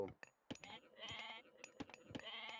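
Goats bleating in the real-time strategy game Age of Empires, several short nasal bleats at low volume in a quick, irregular sequence.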